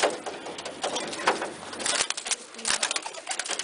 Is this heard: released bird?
yes